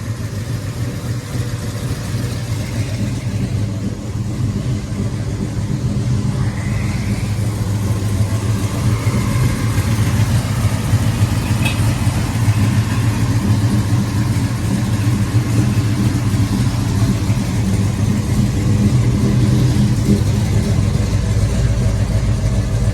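A 1971 Chevelle with a 502 big block V8, carburetor freshly primed after sitting, idles with a loud, lumpy rumble and rises in occasional revs, steady and close for the whole stretch with no talking.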